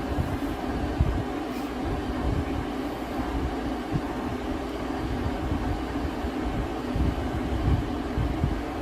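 A Frigidaire 5000 BTU window-mounted air conditioner runs on high cool, giving a steady low, rumbling hum with airflow noise, moderately quiet and continuous, with no talking.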